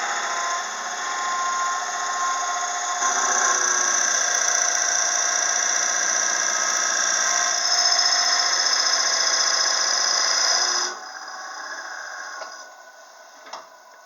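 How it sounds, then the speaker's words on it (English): A power drill bores a hole into a turned wooden pepper mill blank, a loud steady whine running continuously for about eleven seconds before cutting off to a quieter hum and a few faint clicks. "I'm going to go ahead and drill my first hole."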